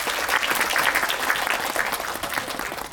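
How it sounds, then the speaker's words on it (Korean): A cinema audience at a film talk event gives loud, sustained applause, many hands clapping in a dense, steady roar for the whole stretch. "큰 박수 부탁드립니다."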